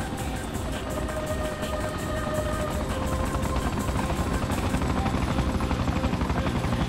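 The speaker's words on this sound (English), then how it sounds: "in the back you can see the reinforcements chopper appearing" A reinforcements helicopter arrives in the video game Freedom Fighters, its rotor thudding in a loud, steady, rapid pulse that fills the whole stretch with a constant engine roar.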